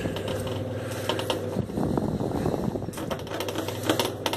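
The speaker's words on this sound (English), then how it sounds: "Give it a good mix up." Roasted almonds tossed with chilli, cumin, salt and lime juice in a bowl give a close, continuous rattling clatter of nuts knocking against each other and the bowl.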